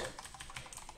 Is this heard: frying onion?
no